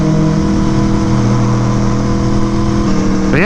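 A Toyota Supra's engine rises loudly and steadily as the car passes close by, its tone climbing and sliding near the end. Constant wind and road roar from a moving motorcycle runs underneath.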